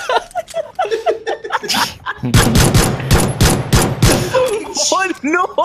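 Gunfire erupts in the battle-royale game PUBG as close, rapid automatic bursts rattle for a couple of seconds, surrounded by excited players' voices and laughter.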